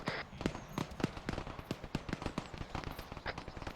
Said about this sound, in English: We have audible shots east.